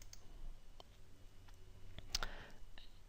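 A computer mouse right-clicked, with a few faint, sharp, isolated clicks over quiet room hum and no talking.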